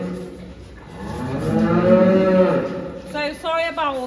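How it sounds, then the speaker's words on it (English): Dairy cows bawl repeatedly while being moved around a running milking parlour at milking time, with long, loud overlapping moos that build in the middle and then give way to shorter calls near the end. "They do tend to bawl because they're like, oh, it's milking time"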